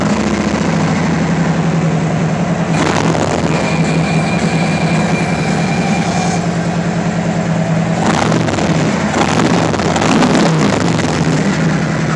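A 2017 Harley-Davidson FLHX CVO motorcycle idling with a loud louder-than-stock exhaust, a steady deep rumbling throb held for the whole stretch, close and unbroken, with a brief rev-like swell partway through.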